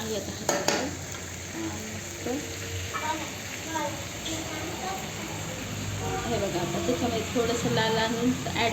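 A spiced potato and eggplant vegetable curry sizzles in a pot over a wood-fired stove while it is stirred, a steady frying hiss with soft scraping and a few sharp clinks near the start, and faint voices in the background.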